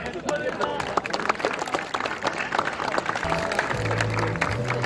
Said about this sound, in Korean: 뜨거운 환영과 감사의 박수 부탁드리겠습니다